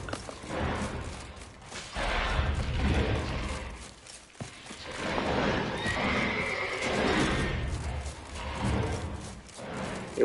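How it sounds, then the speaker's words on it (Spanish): A horse in The Witcher 3 neighs and whinnies repeatedly in drawn-out, loud calls mixed with hoof clip-clop and faint mechanical creaks, with no talking over it. "Igual es el caballo ese que dejamos."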